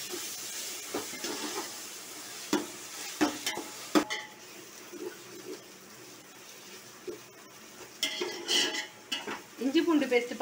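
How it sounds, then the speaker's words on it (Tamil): Ginger garlic paste sautés in a pan for mutton biryani, giving a soft sizzle broken by intermittent clinks and scrapes of a spoon against the pot, close but moderately quiet, with no talking. "இஞ்சி பூண்டு பேஸ்ட் பச்சை வாசனை போகிற வரைக்கும் நல்லா வதக்கியாச்சு"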